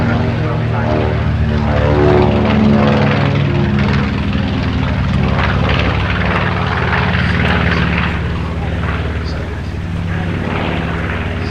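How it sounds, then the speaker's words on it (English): Vintage propeller aircraft, including a silver B-25 bomber and a DC-6 airliner, fly overhead at the Duxford D-Day airshow with a loud, steady multi-engine drone and throbbing harmonics throughout, under a commentator's voice on the public address. "another very attractive silver aircraft airborne underneath, the B-25. That and the DC-6 off to the Midland Air"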